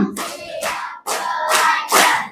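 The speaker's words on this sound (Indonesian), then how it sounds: "Tepuk lima." A group of schoolchildren claps out the fifth count of a clapping chant, several loud bursts of hand claps mixed with shouts, close by.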